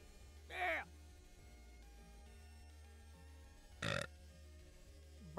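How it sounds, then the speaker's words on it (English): Two loud, brief human burps, separated by a few seconds of quiet, close to the microphone. "Burp."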